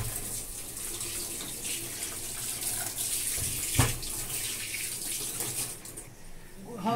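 Tap water running steadily while fish pieces are washed for frying, a continuous close hiss with a brief splash partway through and faint handling sounds.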